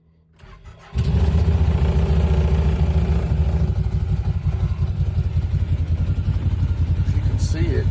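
An Intimidator GC1K utility vehicle cranks briefly, then its engine catches and settles into a loud, steady, close idle that runs to the end.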